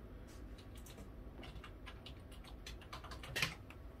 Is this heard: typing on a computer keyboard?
yes